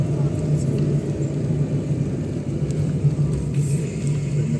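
Car engine rumbling steadily as a vehicle drives up to a Tamil Nadu hill temple's parking area, a continuous low drone with a faint tonal hum and no voices.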